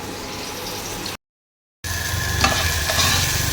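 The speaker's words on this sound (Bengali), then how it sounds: "এখানে এই যে মাছ চাপিয়ে দিয়েছি, ভাজা হচ্ছে।" Katla fish frying in a pan gives a steady, close sizzle with stirring, broken by a short gap of silence before the sizzle resumes somewhat louder.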